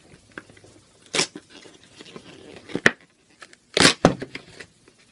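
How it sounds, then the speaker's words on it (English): Cardboard packaging of a headset being torn open by hand, a few short ripping bursts with quiet crinkling between them, close up and alone. "And of course it's tearing a little bit irregularly."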